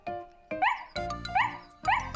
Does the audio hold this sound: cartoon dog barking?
yes